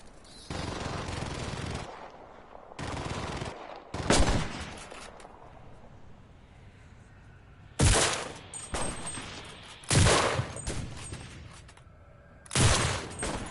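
Gunfire in the video game Cuisine Royale comes in sharp, separate bursts and single shots, some loud and booming, with quieter pauses between the volleys.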